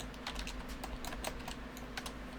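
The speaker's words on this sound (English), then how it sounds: "It's a good thing typing is not the most important skill for a programmer." Fast, continuous typing on a computer keyboard, a dense run of close clicky key taps over a steady low hum, with no talking.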